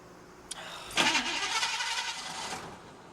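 A car engine starts with a brief starter click and a surge that settles into a steady mid-pitched idle running for about two seconds, heard close with no talk over it.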